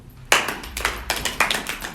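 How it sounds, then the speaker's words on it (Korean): A small group of K-pop idol members claps together at close range, a quick, uneven patter of hands that starts suddenly and keeps going, with no talking over it. "박수"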